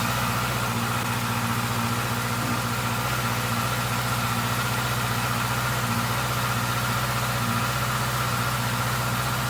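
A rebuilt Honda CB650R motorcycle engine idles steadily at about 2000 RPM while warming up, a constant close, loud drone with an even hum and no change in pace throughout.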